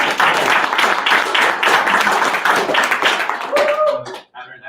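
Audience clapping after a presentation on calendar APIs, a lively burst of many hands close by that fades out near the end, with voices talking over it.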